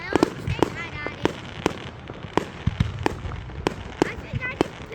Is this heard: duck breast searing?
no